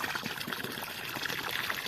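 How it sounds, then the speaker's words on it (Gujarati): Water is poured onto a tree, making a steady, continuous trickling and splashing sound close by, with no voices. "મારા મમ્મી તો ઝાડવા પાય છે"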